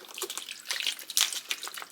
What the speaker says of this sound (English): I'm going to fill it pretty much to the top with water, saving just a little bit of room